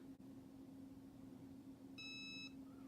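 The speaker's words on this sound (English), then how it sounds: "I'm going to press the timer button" An Easy Press heat press timer gives a short run of bright electronic beeps about two seconds in, fairly faint over a steady low hum.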